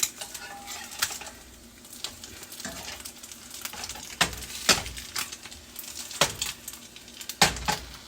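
Eggs frying in a pan for a simple breakfast, a steady soft sizzle with scattered sharp scrapes and clinks of a utensil against the pan, close and alone.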